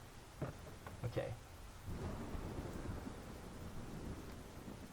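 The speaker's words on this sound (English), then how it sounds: "you hear the sound of thunder coming closer to this vicinity" Thunder rumbles closer over steady falling rain. A few sharp cracks come at the start, then give way to a broad, sustained roll over the downpour, with faint voices briefly at the beginning.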